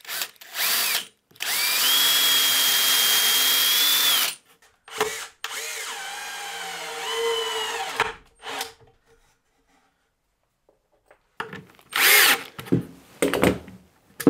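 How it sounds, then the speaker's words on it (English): A power drill bores pilot holes into wood for a handmade gift. Several whining bursts sound up close, with pitch shifts as the bit bites and pauses between holes. "I'm going to drill some pilot holes because I don't want to split it"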